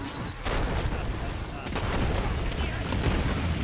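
Sustained dense gunfire in the shooter game Borderlands 3, a continuous loud roar of rapid shots and blasts with a short dip before the barrage resumes.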